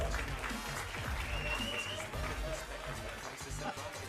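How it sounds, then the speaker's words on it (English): An audience claps and cheers at the eFootball 2024 world championship finals. The moderately loud applause runs through the whole stretch amid arena noise. "Once again, round of applause."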